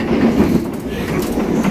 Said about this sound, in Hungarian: Vonat.